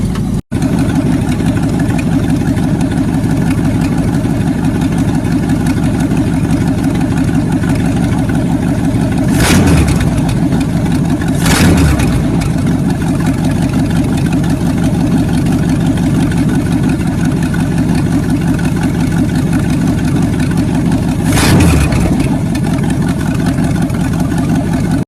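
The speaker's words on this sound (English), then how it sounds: "I'm gonna set the idle right on 2 when it warms up. I'm gonna set it so it idles a little bit lower." A hot rod motorcycle engine warming up idles loudly and steadily up close, with three brief sharp revs or pops scattered through the long run and no talk over it.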